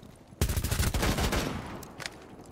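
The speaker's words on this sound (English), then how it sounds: "Damn, this gun's loud." A rapid burst of pistol fire in Rainbow Six Siege, loud, booming shots close together that start abruptly, then decay, with a last faint report near the end.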